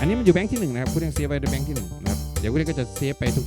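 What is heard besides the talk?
No distinct noise like a dog, phone or traffic.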